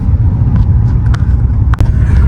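A Tata Safari 1.5 petrol automatic SUV rolls over block paving, giving a steady low road rumble inside the cabin with a couple of brief knocks and clicks.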